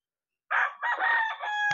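A single large Kelso gamecock rooster crows a loud, close cock-a-doodle-doo after a brief silence, the call rising and breaking into a drawn-out final note.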